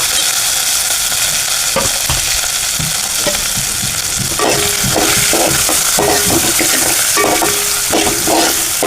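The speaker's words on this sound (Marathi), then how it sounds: "मस्तपैकी कांदा ढवळून गुलाबी करून घेऊया" Onion fries in a pan after garlic paste, stirred with a spatula; a loud, continuous close sizzle runs throughout with repeated scraping strokes and taps.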